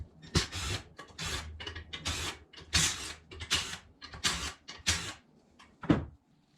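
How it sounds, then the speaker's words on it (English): A cam cap is worked loose and lifted off a forged Ford 4.6 engine on a 2001 Mustang, producing a series of close metallic scrapes, rubs and clicks in irregular bursts. "First thing you need to do is remove this cam cap."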